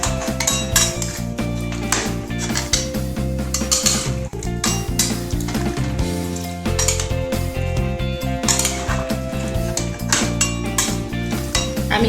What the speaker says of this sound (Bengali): এবারে ভালো করে নাড়িয়ে দিচ্ছি।